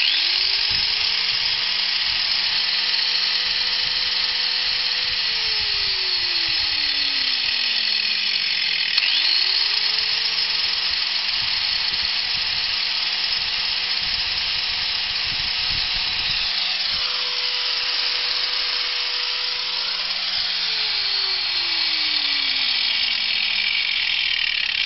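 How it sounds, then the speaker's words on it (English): A small angle grinder powered from an inverter whines steadily and loudly, spinning up and down twice with rising and falling motor pitch under a constant high-pitched hum. "Little angle grinder. Turn it on."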